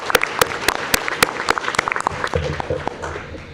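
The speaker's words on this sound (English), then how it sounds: "let's give all of our sponsors another round of applause" A live audience at a city council candidates forum claps for the event's sponsors: dense, energetic clapping with sharp individual claps standing out near the microphone, continuing steadily for several seconds.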